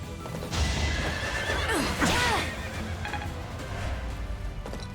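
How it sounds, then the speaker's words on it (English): Horses whinny loudly in the Fire Emblem: Three Houses game soundscape, with hoofbeats clattering and a dense, noisy mix of battle sounds around them. "Okay, these horses are still on their way."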